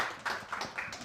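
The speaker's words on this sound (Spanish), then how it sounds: "Un gran aplauso y todos atentos a lo que nos tengas que contar." A few scattered claps from a conference audience greeting a speaker at WordCamp Zaragoza 2023, faint and brief, with light uneven hand claps rather than a full ovation.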